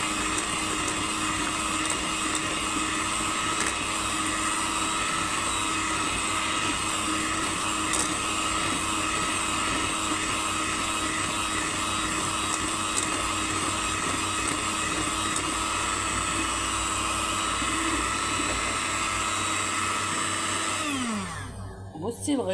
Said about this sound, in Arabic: اضربي لغايه ما السمنه تلمع، يعني تبقى ناعمه خالص معاكي